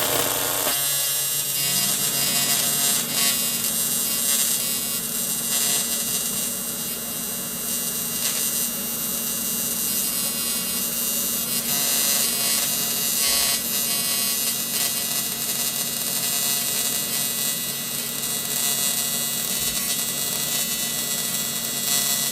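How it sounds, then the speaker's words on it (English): TIG welding on 2mm alloy at 63 amps: a steady, close electric buzz and hiss starts after about a second and runs unbroken for roughly twenty seconds. "Let's see if we can put a decent weld down on this 2mm."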